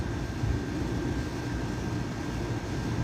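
A continuous far-off roar of Pakistani fighter jets passing overhead during Saudi National Day festivities, a low rumbling jet drone that holds steady without fading for about three seconds.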